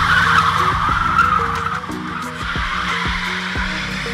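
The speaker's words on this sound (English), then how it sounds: "you can do burnouts" A stock Midori Green Honda Civic EK hatchback does a burnout, its tires squealing and skidding loudly and close up, with the engine droning underneath for the whole stretch.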